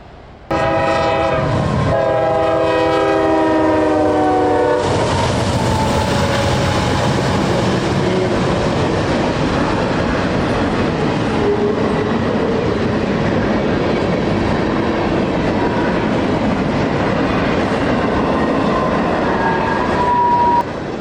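A freight train in Alabama rumbles past close by, with a horn blast at the start, then a long steady roar of wheels and cars rolling along the track.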